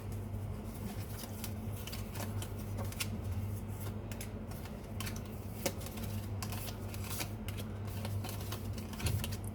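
Tarot cards being drawn and shuffled by hand make a steady run of soft, quick riffling and flicking sounds over a constant low hum, close and fairly quiet, with no talking.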